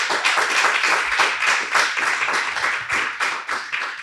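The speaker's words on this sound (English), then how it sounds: "I would ask the audience to please welcome them with some applause" An audience at a panel discussion on cannabis politics applauds its guests, sustained hand clapping from a crowd, loud and steady throughout with no speech over it.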